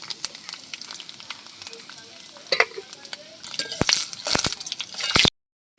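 Dry red chillies, bay leaf and cardamom hit hot oil for bhog khichuri, giving a soft sizzle with scattered clinks that builds into a louder, crackling burst near the end before cutting off.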